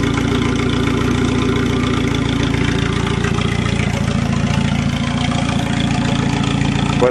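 A turbo Volvo engine idles cold through a chopped exhaust, a loud, steady, slightly uneven rumble that continues without a break and with no talk.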